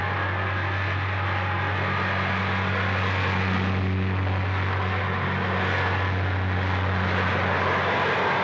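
Aircraft engines at Orly airport drone steadily for several seconds, a loud continuous hum with a strong low tone and no voices over it.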